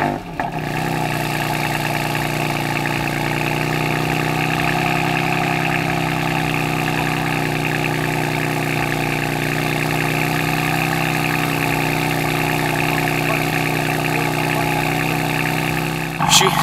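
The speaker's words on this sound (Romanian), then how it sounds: "Hai să facem un cold start să vedem cum se aude." A BMW M4 convertible's engine runs at a steady cold-start idle, a loud constant low drone throughout, close by and uninterrupted.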